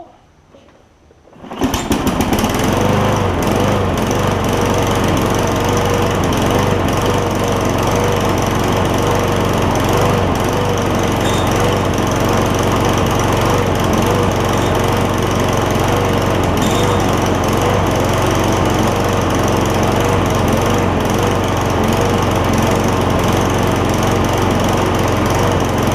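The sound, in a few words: Craftsman push mower with Briggs Quantum engine running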